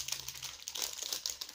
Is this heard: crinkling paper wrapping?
yes